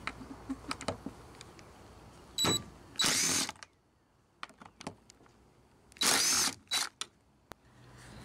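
Rusty roof rack screws come out of a Honda Odyssey with small metallic ticks and clicks, broken by two loud bursts of rough grinding and scraping close by.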